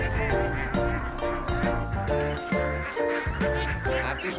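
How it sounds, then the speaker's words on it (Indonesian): Hundreds of ducks quack in a dense, loud flock in rice fields around Mojokerto, Indonesia, with repeated overlapping calls close by and a motorbike-like drone underneath. "Tuh, ada ratusan bebek di belakangku."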